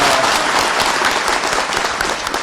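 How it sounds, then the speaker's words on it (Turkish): A crowd applauding at a May Day rally in 2023 breaks into loud, sustained clapping, thick and continuous throughout, with the faint murmur of the gathering mixed underneath. "Hani alkış?"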